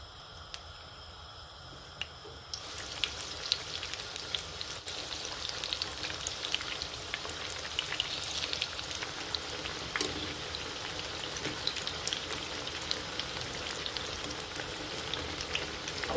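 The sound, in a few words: pakoras frying in oil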